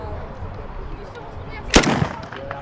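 A Soviet Sudayev submachine gun fires a short burst at an outdoor motoring-season opening event, one sharp loud crack cluster standing out over steady crowd background and murmured voices.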